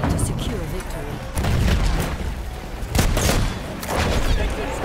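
Battlefield 1 combat on the Cape Helles map, with dense, continuous gunfire and booming shotgun blasts surging in loud waves, while voices talk over the fighting.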